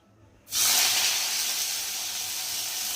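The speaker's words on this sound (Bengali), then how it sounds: "দেখো কড়াতে তেল দিয়েছি, তেলটা অনেকটা হিট হয়ে গেছে। আর এখন আমি আলুগুলো ছাড়বো।" Potatoes dropped into hot oil in a wok burst into a loud, sudden sizzle that holds as a steady, bright frying hiss, close up, after a quiet moment.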